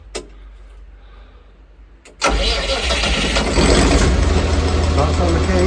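A Massey Ferguson MF1250 tractor started on the key: a brief cranking whir, then the engine catches abruptly and settles into a loud, steady diesel idle close by.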